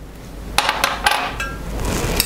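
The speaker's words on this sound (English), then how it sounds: "I've got 2 tablespoons of miso here, and you can just go ahead and stir that in." A spoon clinks against a pot while miso is stirred into bonito flake stock, a few sharp metallic taps close by over a low background hum.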